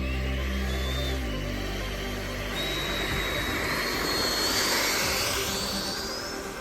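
An FMS F-18 radio-controlled scale jet with a 70mm electric ducted fan takes off, its loud, steady turbine-like whine rising in pitch and swelling as it throttles up, with no talk over it.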